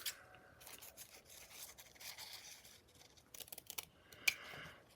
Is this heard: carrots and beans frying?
no